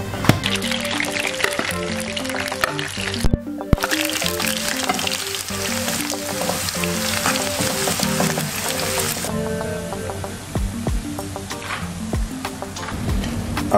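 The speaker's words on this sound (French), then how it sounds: "Là l'huile rouge qu'il faut griller." Red palm oil frying in a pot gives a steady, dense sizzle that runs throughout, thinning somewhat in the last few seconds, with tonal background sound underneath.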